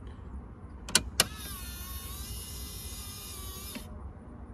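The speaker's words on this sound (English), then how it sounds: "You hear the click right there." On a Land Rover Discovery II, an electric centre differential lock actuator engages with two sharp clicks close together, then a high electric motor whine runs for a few seconds and ends in a soft click, heard nearby in a quiet garage.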